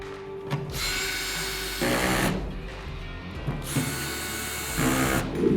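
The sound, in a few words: power drill tightening bolts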